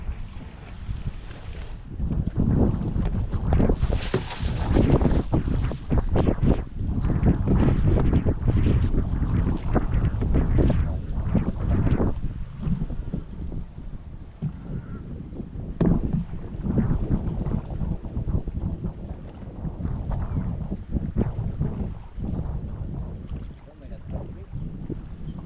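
Engine of a fishing boat running out on open water, a steady close rumble throughout with wind buffeting the microphone and a voice speaking intermittently over it.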